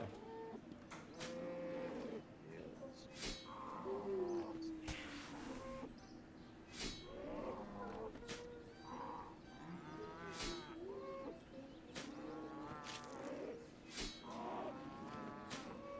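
Repeated cow moos from the RuneScape game, several drawn-out lowing calls spaced irregularly across the stretch at moderate volume, with faint clicks between them.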